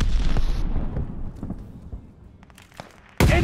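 A grenade blast in the video game Call of Duty: Vanguard, loud at the start and rumbling away into faint scattered pops, followed by a sudden sharp burst at the very end.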